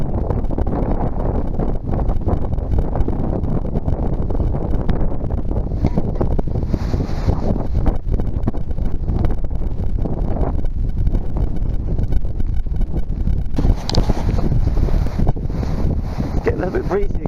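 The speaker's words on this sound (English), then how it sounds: "bit breezy again, as you can see" Strong gusting wind from Typhoon Hagibis in Kobe, buffeting the microphone as a constant loud roar with shifting rushes and bursts, with faint talk mixed in.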